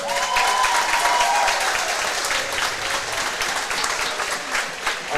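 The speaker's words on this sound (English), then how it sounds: "Erin Kelly, the second senior to be applauded." Steady applause fills a swim and dive senior night as the crowd claps for a graduating senior, a dense and continuous patter held at an even level for the whole stretch, with no talk over it.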